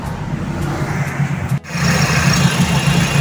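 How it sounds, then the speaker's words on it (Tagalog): A steady Toyota 4AF carbureted engine idling close by, then a brief dropout and a slightly louder, fuller rumble as the motor settles into a constant idle. "paanda rin po natin yung makina and magse-set na tayo ng RPM"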